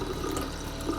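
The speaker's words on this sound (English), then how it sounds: "Turn on the faucets." Faucets in an RV camper turned on with the water pump running, a steady broadband rush of flowing water that continues evenly throughout with no talking.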